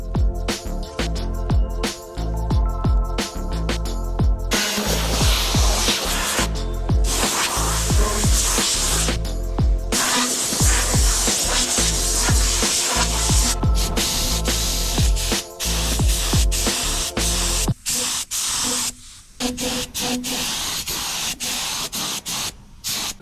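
Spray gun applying Cerakote tungsten coating in a garage bay, loud close hissing bursts of varying length broken by short pauses, with a low hum beneath.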